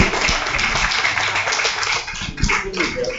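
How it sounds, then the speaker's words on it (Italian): An audience at a literary award ceremony applauds a second-place winner, a steady patter of clapping hands throughout, moderately loud, with a few low thumps and a faint voice-like murmur mixed in. "Un applauso per il signor Pirrigheddu"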